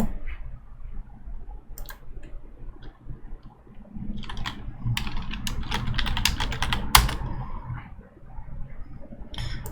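Rapid clicking keystrokes on a computer keyboard as event details are entered, in bursts separated by short pauses, close and clear with no talking over it.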